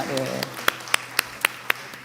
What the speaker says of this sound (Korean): 우리 하나님께 영광 박수 올립니다